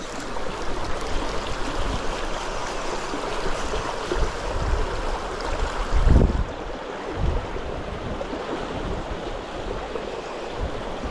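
A river current rushes steadily past during trout fishing in Sweden, a loud, continuous broadband flow with wind buffeting the microphone and a few low thumps, with no talk.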